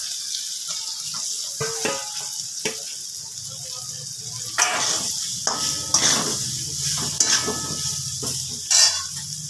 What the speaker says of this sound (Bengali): এবারে দিয়ে দিচ্ছি ফুলকপিগুলো।